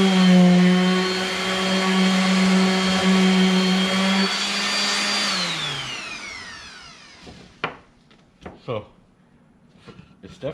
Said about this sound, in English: There's just some, I think it's 80 grit sandpaper.